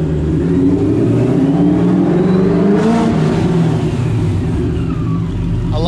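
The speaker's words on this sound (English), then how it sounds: "I love that blower whine, dude." An 800 hp supercharged Fox Body engine idling on its first start, a loud steady low rumble close by with a thin rising blower whine on top, a brief rev near the middle.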